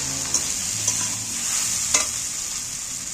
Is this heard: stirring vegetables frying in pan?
yes